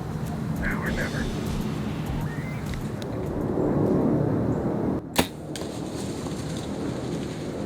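A single arrow loosed from a hunting bow in the woods while bowhunting deer, a sharp brief snap standing out alone against a steady outdoor rumble of wind and rustling.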